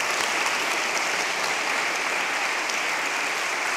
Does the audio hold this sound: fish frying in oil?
no